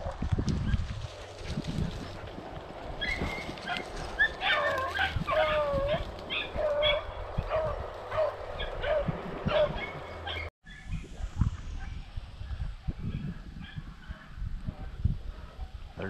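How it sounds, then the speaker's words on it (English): Hunting dogs bark during a rabbit hunt in the Missouri woods, a string of repeated yelps and bays at middle distance, fading after a few seconds into rustling brush and footsteps. "I got another dog barking behind me."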